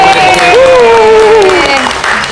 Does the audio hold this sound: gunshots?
no